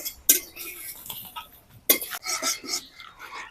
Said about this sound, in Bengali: গোলমরিচ দারচিনি লবঙ্গ এলাচ মশলাগুলোকে আমি হালকা করে ভেজে নেব